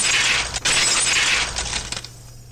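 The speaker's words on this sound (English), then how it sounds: "The unpleasant, piercing sound of shattered glass" Glass shatters in a sharp, piercing crash, followed by a brief scatter of tinkling shards that fades out.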